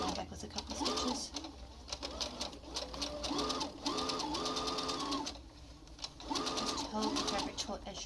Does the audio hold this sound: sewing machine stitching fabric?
yes